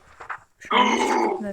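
A dog growls in a video game: one rough, snarling growl of about a second, loud and close, after some brief faint sounds.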